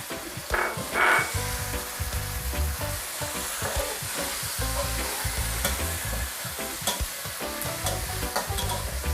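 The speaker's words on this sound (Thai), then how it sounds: "น้ำมันร้อนก็ใส่พริกลงไปเลย" Red jinda chilies and pounded garlic hit hot oil in a wok for a Thai pad cha stir-fry, giving a strong steady sizzle with frequent scraping stirs, close up and with no talking.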